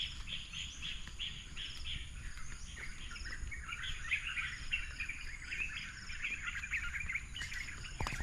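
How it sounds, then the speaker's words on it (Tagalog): A noisy bird calls over and over outdoors, its bright chirps steady and moderately close for the whole stretch, with insect buzzing and a low background rumble beneath. "Ano ba yung ibon na yun? Nasaan yung ibon na maingay?"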